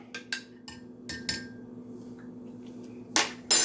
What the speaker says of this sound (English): So just mix it on up.